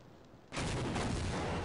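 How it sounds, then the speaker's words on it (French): A sudden, loud broadband blast from an explosion in the video game Half-Life, bursting in after half a second of quiet and roaring on as dense, sustained rumble to the end. "Why die from this explosion?"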